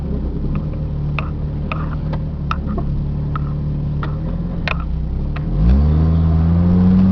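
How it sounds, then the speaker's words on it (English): A 1997 Jeep Cherokee Laredo 4x4 with a six-cylinder engine idles steadily, then revs up sharply as one tire spins in grass, the engine note rising and holding loud near the end with light ticking throughout. "I got one tire in the grass. Why not spin the tire?"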